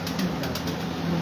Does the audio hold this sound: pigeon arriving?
yes